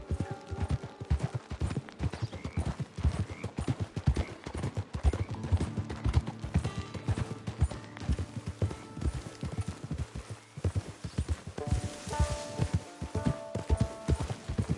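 Horse hooves clip-clop steadily in a PS4 video game, a close, regular rhythm of hoof strikes continuing throughout over a low ambient bed.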